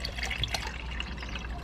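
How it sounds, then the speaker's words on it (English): Water pours into a cup in a short trickling, splashing burst at close range, quiet and alone against a low hum. "We just put the water in the cup"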